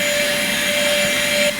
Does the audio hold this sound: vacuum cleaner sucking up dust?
yes